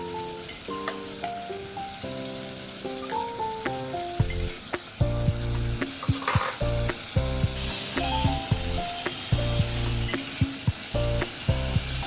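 Spice paste sizzling and frying in oil with tomatoes in a pan for a vegetarian potato, pointed gourd and paneer dish, a steady close hiss broken by repeated clinks and scrapes of stirring.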